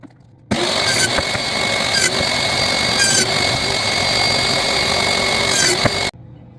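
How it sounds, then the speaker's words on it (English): A power saw cuts cedar boards for the top of a piece of yard furniture, running loud and steady for about five and a half seconds, with a few sharp bursts as the blade works through the wood. "So I'm going to cut my top pieces now."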